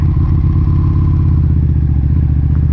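A Ducati 959 Panigale sportbike on the road produces a loud, close, steady engine drone with a pulsing rhythm throughout; no gear change stands out.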